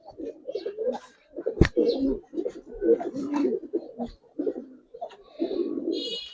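A freshly released Giribaz pigeon pair coos in repeated low, throaty bursts, fairly close, with a sharp click partway through and faint higher chirps near the end.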